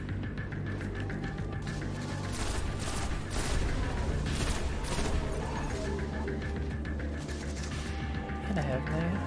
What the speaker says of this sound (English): step far away from those explosions.